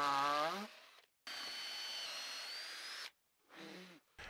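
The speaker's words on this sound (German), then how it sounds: "Jetzt schrauben wir es an." A cordless drill drives screws into a log bench board at an outdoor camp, with short high whining bursts separated by silent pauses, close up and loud.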